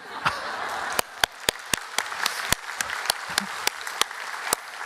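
At a Korean church Bible lecture, a soft bed of audience applause is punctuated by sharp, evenly spaced individual claps, roughly two to three per second, standing out loudly and rhythmically above the crowd.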